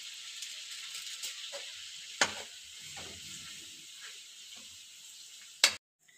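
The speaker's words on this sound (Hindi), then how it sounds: "और अब मैं इसको मिक्स कर दूंगा ताकि ये जो है वो पेस्ट बन जाए।" Spice paste for kurma being stirred in a pan, a steady sizzling frying hiss with soft scraping strokes and two sharp clinks of a utensil against the pan.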